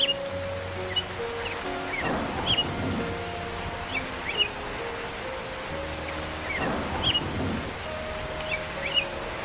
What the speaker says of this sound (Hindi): ये बारिश भी तो थम नहीं रही है।